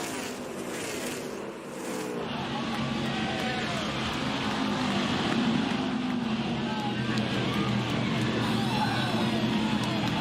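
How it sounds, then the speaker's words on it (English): A race car doing victory burnouts at Nashville Superspeedway after the Rackley Roofing 200 gives a continuous, loud engine roar. Wind buffeting and crowd or voices sit underneath, and the roar holds steady throughout. "Carson Hocevar is able to celebrate doing those wonderful victory burnouts"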